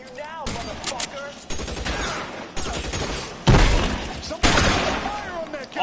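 Gunfire from the LA Noire video game, bursts of shots sounding in loud clusters across the span, with a voice talking between and over the shooting.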